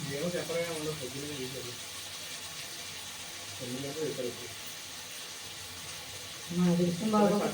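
Tap water runs steadily into containers at home, a constant soft hiss filling the background while a voice speaks over it in three short stretches.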